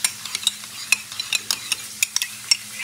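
A spoon or spatula scrapes and taps in a pan, stirring cracked pepper into olive oil for a ribeye steak; a quick irregular series of close, crisp clicks over a faint low hum, no talking.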